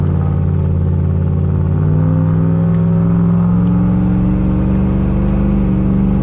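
A turbocharged Ford Thunderbird engine, warmed up, rumbles and climbs steadily in pitch as it accelerates to about 4,500 RPM, a deep, close revving growl with no talking.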